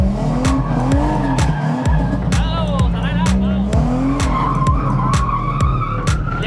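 Car drifting in a figure-eight, with repeated loud tire squeals and skids over a revving, droning engine, close and continuous, while a person talks over it.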